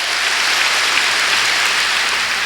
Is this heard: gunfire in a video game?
no